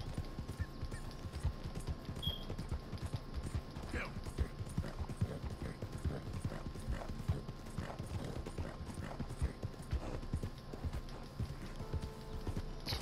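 Horse hooves clip-clop in a steady galloping rhythm in the Red Dead Redemption 2 video game, the patter continuous and fairly close, with occasional faint snorts over a low ambient bed.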